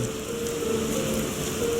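Steady rain falling in a video game scene, a continuous even hiss of drops on surfaces with no talk over it, short and unbroken.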